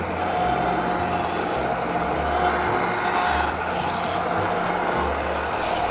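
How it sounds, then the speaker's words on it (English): An immersion blender purees a chile chocolate mole sauce, giving a continuous close motor whir with a gritty, churning rush that holds steady throughout, with no voices. "let's grab our immersion blender and give this a good puree."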